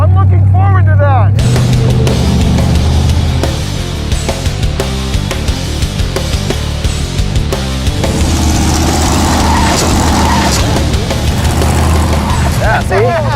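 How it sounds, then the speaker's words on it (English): A Corvette-bodied go-kart launches off a ramp, its engine roaring loud and close with rising revs and a sustained drone, while people talk excitedly over it. "He's now learning what it's taking to bring the car off the ramp and higher."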